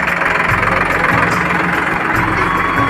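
A Sonalika tractor engine idles nearby, a steady, loud, low mechanical rumble with a slight knocking pulse that runs unbroken throughout.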